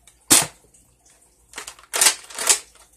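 A 2009 Nerf Longstrike CS-6 toy blaster fires and is handled, giving a sharp close snap followed by several quick, airy bursts and clacks in an uneven rhythm with no talking.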